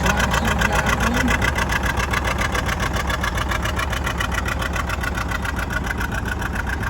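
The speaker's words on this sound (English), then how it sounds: "This our John Deere diesel is owned by the Swenson family" A John Deere diesel tractor engine idling steadily with a rhythmic low chugging throb, close and continuous at a farm tractor show, without any talking over it.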